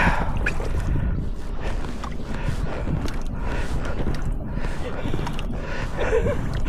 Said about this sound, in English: I'm rowing.